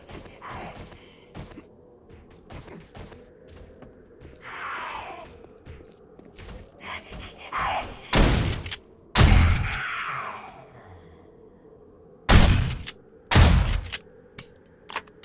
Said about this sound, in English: She was just in there just beating away on my base